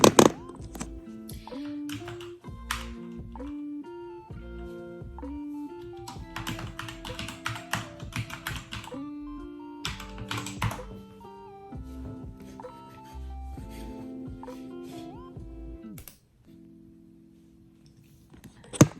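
Keys clatter on a computer keyboard in irregular bursts of close, crisp taps with short pauses between, over a quiet background of soft tones that drops nearly silent near the end.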